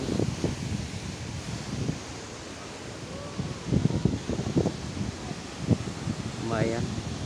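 Wind blows beside a waterfall carrying mist, making a continuous rushing roar with gusty buffets against the microphone. Faint voices come through underneath.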